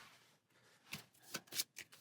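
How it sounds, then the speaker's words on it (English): Playing cards being shuffled during a solo Marvel Champions card game, a series of quick riffling bursts that grow denser and louder toward the end, close and alone. "So finish shuffling our counter deck"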